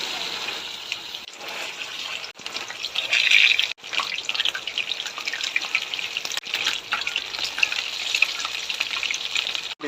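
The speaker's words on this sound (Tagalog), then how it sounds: "Painitin ko lang ng mainit yung mantika bago ilagay yung chicken." Chicken frying in hot oil in a pan, giving a loud, continuous crackling sizzle with brief dips and a few pops, close by and with no talk.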